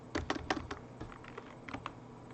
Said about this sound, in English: Now, type that in